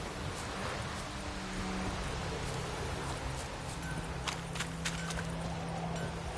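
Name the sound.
rain, from a video game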